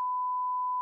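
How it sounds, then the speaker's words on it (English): One steady, pure electronic censor tone is dubbed over the soundtrack, held unbroken for nearly a second, clean and even with nothing else audible. "I'm just gonna put one really long beep in there"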